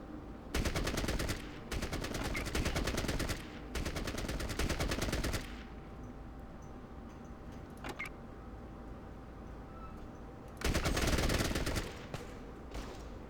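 Bursts of automatic gunfire from the video game Fallout Tactics: Brotherhood of Steel, in three long rattling volleys separated by quieter gaps with a few single shots.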